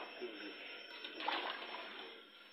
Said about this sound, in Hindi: अब हम पानी डाल के प्रेशर कुकर कर लेंगे।